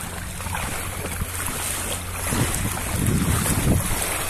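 Flood water of the overflowing Comandatuba river at Porto Calvo rushing past, a broad steady roar with wind buffeting the microphone and surges that grow louder toward the end.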